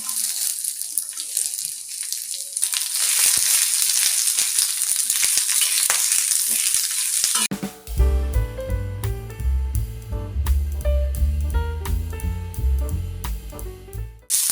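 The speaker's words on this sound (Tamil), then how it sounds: "வெங்காயம் நல்லா வதங்கி வந்துடுச்சு." Chopped onions and curry leaves fry in hot oil, giving a loud, steady sizzle that soon gives way to a busier, pulsing cooking sound, with no voices.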